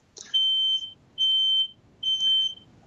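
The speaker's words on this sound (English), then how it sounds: "It's an alarm. I think the house is burning down." A smoke alarm sounds three piercing high beeps, each lasting about half a second with short gaps between them, loud and clear over a quiet background.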